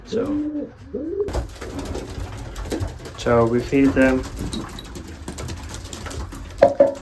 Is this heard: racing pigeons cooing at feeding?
yes